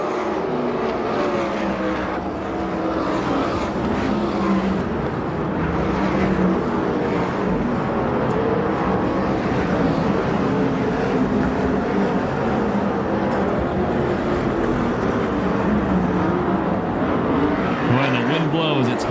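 USAC/CRA sprint cars race at Perris, California, with a continuous loud roar of engines circling the dirt oval and layered cars passing, mixed with a commentator talking over it.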